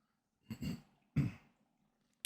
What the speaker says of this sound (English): I just need to clear my throat a bit there